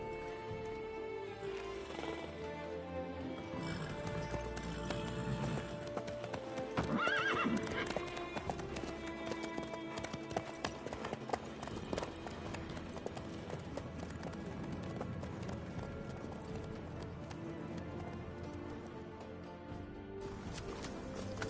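Horse hooves clip-clop at a gallop in the Witcher 3 video game, a continuous rapid drumming with a whinny near the middle, set under a game soundtrack and ambience.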